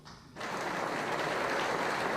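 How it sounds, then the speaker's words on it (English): An audience breaks into sustained applause during a speech by Yasser Arafat's side, a dense wash of clapping starting suddenly and continuing steadily. "His comments won him applause from leader Yasser Arafat"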